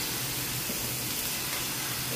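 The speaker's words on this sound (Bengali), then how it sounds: "ওখানে ঘি ধোসা হচ্ছে।" Ghee dosa batter sizzles on a hot griddle in a home kitchen, a steady, even hiss with no break, heard alone.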